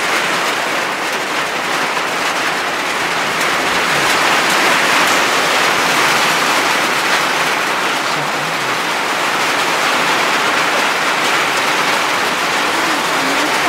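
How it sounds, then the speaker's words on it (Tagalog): Heavy rain that started suddenly pounds steadily on the roof of a house, a loud, unbroken hiss and drumming that fills the whole stretch with no talking. "Sorry po, maingay po kasi umulan bigla."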